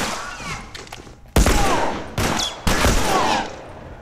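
Gunfire in The Last of Us game: three sharp, loud shots, the first alone and the next two about half a second apart, each with a ringing tail, over a quiet backdrop with faint voices.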